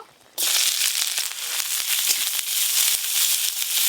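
Dried chilli and chopped onion hit hot mustard oil and break into a sudden loud, dense sizzle with scattered crackling pops. The frying continues steadily with no voice over it.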